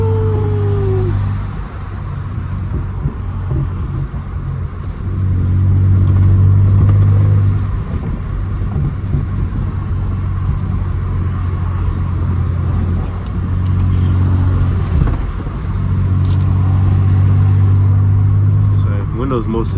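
A tuned Mercedes W204 C350 with a straight-piped exhaust cruises with the windows mostly up, its low engine drone swelling and easing under gentle throttle, heard from inside the cabin while a person talks.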